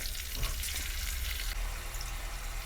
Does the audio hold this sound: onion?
yes